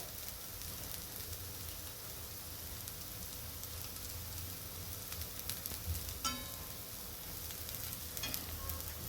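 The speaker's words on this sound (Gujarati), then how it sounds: "ધીમા ગેસે આપણે ચડાવવા દઈશું। ઉપરથી આપણે તેલ લગાવી લઈએ ટીકી ઉપર।" Green pea tikkis cook over low heat in oil on a pan, giving a quiet, even sizzle throughout with a few light clicks and taps.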